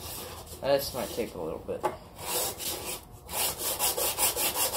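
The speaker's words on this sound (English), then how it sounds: "take a piece of, what is this, 120 grit sandpaper and just sand down the edges flat" Wood edges for a handmade carpentry hammer are sanded flat by hand with 120 grit sandpaper, giving a steady run of scratchy rasping strokes close by, with a brief spoken remark near the start.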